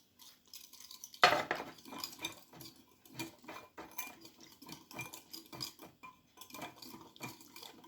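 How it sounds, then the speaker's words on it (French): A spoon stirs a spiced beef sauté in a pan, scraping and clinking in an irregular rhythm, with one sharp metallic knock early on and soft sizzling beneath. "Je mélange."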